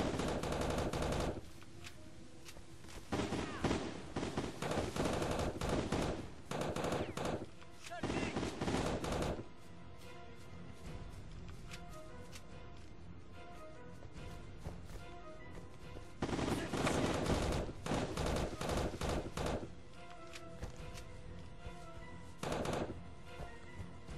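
Gunfire in the Heavy Fire: Shattered Spear shooter game, sustained loud machine-gun bursts in several long volleys separated by quieter stretches, with a droning background and occasional voices.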